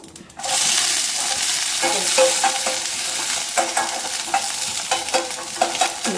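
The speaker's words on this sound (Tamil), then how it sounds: "நல்லா வதங்கட்டும் இப்போ வெங்காயம் வதங்கிடுச்சு" Onion, mustard seeds and curry leaves sizzle loudly in a hot pan. A spatula scrapes and stirs through them in repeated, rhythmic strokes close by.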